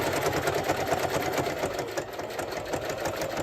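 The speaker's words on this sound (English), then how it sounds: "we're going to start with the reverse stitch and just reverse it back." A sewing machine zigzag stitches a jelly roll rag rug, a steady fast whirring hum with a rapid rhythmic needle beat running without pause, close and fairly loud throughout.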